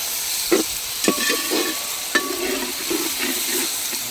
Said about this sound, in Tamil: இந்த நேரத்தில் வெட்டி வச்ச தக்காளி சேர்த்துக்கிறோம்.